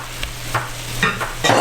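Meat for corned beef hash sizzling in a frying pan as it is stirred back in, with a steady fry hiss and several scraping stir strokes in quick succession, close and moderately loud, no talking.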